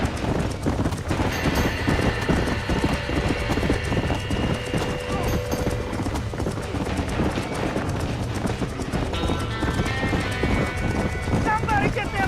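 A horse gallops in the Red Dead Redemption video game, its rapid clip-clop hoofbeats running steadily through the whole stretch under music and game noise, with voices and a brief whinny heard along the way.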